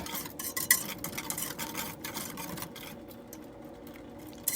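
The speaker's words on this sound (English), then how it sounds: "Then I'm gonna whisk it around, mix it all together, trying to get that butter to melt." Whisk stirring butter as it melts in a pot for baked mac and cheese with ground beef, a steady scraping, clinking swirl close up with no voices.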